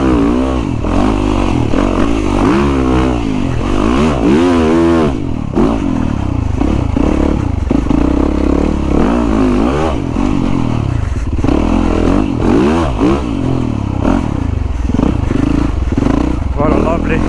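Yamaha YZ450FX dirt bike engine revving and accelerating hard, loud and close throughout, with rising and falling throttle sweeps and clattering, and a rider's voice talking over it.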